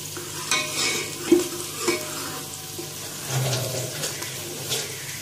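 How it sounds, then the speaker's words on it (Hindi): Onions sautéing in a pan for a home-cooked iftar dish, a steady soft sizzle with a few stirring scrapes and clinks of a utensil against the pan, close up and without talk. "प्याज को हम सुनहरी नहीं करेंगे, सिर्फ सौते करेंगे।"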